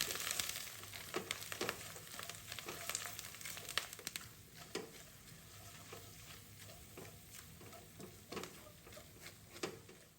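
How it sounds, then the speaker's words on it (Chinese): Spicy preserved radish chili sauce stir-fried in a wok, a soft continuous sizzle with intermittent scraping stirs, faint and close. "持續炒至水分明顯減少，香氣濃郁，醬料開始回油"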